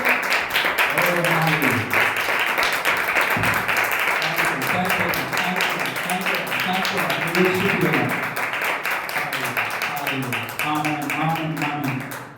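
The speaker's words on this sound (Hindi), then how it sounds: "यीशु मसीह की तो ताली बजाएं प्रभु की उपस्थिति के लिए" Church congregation clapping during worship, with loud, continuous rhythmic claps under voices and singing throughout, dense and close.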